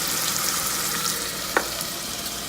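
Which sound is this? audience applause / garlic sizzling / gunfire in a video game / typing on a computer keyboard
garlic sizzling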